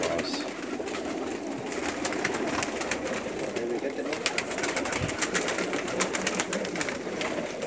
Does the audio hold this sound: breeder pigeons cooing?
yes